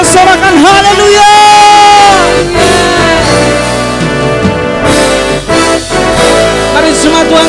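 A worship congregation at a GBI Kasih Setia church service shouts hallelujah amid loud, continuous music and singing. Crowd voices rise and fall across the whole stretch.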